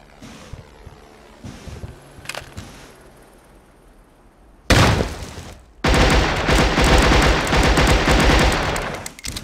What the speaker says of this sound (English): Deploying grenades.